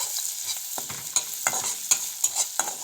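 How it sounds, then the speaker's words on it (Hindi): Onion, ginger, garlic and spices sizzle in hot oil for an egg curry, while a spoon stirs and scrapes the pan in a steady run of sharp clicks over a constant frying hiss. "उसके बाद मैं डालूंगी अदरक, लहसुन और ये सब मसाला में इसी में डाल दिया।"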